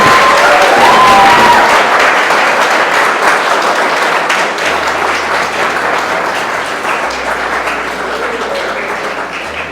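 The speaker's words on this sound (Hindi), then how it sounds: "सबसे पहले तो ज़बरदस्त तालियों से रानू का स्वागत करें।" An audience gives loud, sustained applause to welcome a student who earned an MBBS seat, a dense, even wall of clapping that stays strong throughout and eases off only slightly near the end.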